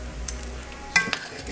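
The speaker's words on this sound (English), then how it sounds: "Okay, turn it on, and we cook the bacon." Bacon frying in a pan for turkey club sandwiches, a soft steady sizzle with a couple of sharper clinks of a utensil against the pan partway through, close and fairly quiet with no talking.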